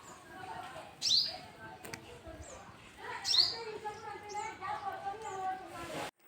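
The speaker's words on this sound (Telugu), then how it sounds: "ఎర్లీ మార్నింగే మా ఇంట్లో అట్లా పిచ్చుకల శబ్దం వినిపిస్తుంది అనమాట" Sparrows chirp in the early morning around a house, with short bright calls at moments and a few sharper tweets, heard beneath steady talk throughout.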